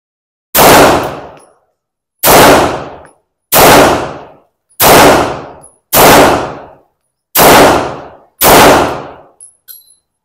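A Sarsilmaz K11 pistol fires seven loud, close gunshots at irregular intervals of about a second, each with a sharp crack and a short decaying ring, followed by faint metallic clinks.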